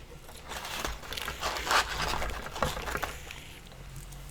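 Old McDonald's fries being eaten up close, with soft irregular chewing and faint crinkling scrapes at a moderate level, no talking.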